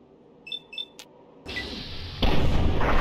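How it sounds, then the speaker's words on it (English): Explosions in the video game Fallout 3: a loud broadband blast bursts in partway through, followed by a second, heavier boom that rumbles on to the end, after a few faint beeps and a short thud. "Oh, the explosions are always hilarious to me."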